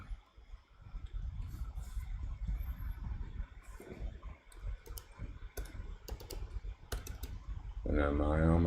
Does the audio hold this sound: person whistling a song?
no